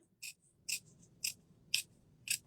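Scissors snip through a gingerbread house piece, five crisp, evenly spaced cuts in quick succession, close and quiet against a near-silent background with no talking.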